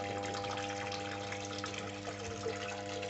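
A pumped stream of water gushes and splashes continuously under a steady mechanical hum, with a constant close wash of noise throughout.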